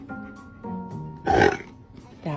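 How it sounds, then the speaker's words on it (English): A dog lets out a single deep, loud burp near the middle of a short stretch, with a person talking before it and a brief vocal sound right after. "burp."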